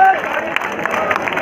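A crowd at a bodybuilding show in Sahawar claps and cheers in a steady wash of applause, with a voice talking over it.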